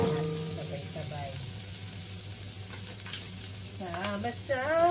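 Garlic, ginger and onion hit a hot pan together and sizzle steadily up close, the frying hiss running under a person talking throughout.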